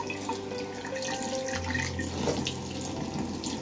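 Water runs steadily from a tap into a sink during a morning routine at home, a continuous close splashing stream with a faint low hum beneath and no talk.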